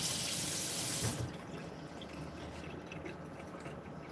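Pasta being rinsed under a running kitchen tap after cooking in oiled water, a strong steady rush of water for about a second that drops to a softer, continuous trickle and splash in the sink.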